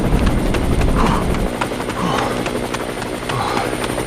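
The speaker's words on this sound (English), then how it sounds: "Why that's the sound of old helicopter blades." Vertibird helicopters in a post-apocalyptic wasteland fly close with loud, rapid rotor thumping. The rotor noise drops a little partway through as the craft pass, and a faint voice can be heard under the noise.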